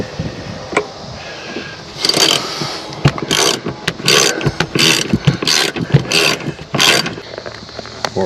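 Ratchet wrench loosening and removing the seat bolts in a 2006 Buick Lucerne during a rusted power seat track replacement, with repeated loud clicking bursts of ratcheting, close and alone.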